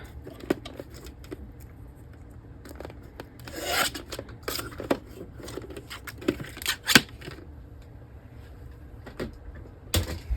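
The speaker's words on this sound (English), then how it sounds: "I have to cut a tiny bit off the bottom too." Scissors snip and rasp through a stiff page of an altered book journal, a string of short, close cuts and scraping rubs with brief louder crunches near the middle and end.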